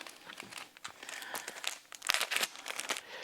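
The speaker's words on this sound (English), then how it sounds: "we'll start with a little cheesecloth." A sheet of cheesecloth is handled and crinkled while a honey-straining sieve is set up, giving soft, close rustling and crackling bursts that grow louder and denser toward the end, with no speech.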